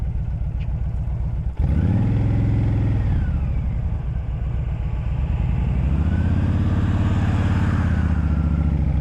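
A Fury motorcycle on a morning commute thrums steadily close by, its engine rising twice through revs and gear changes, with constant wind and road noise underneath.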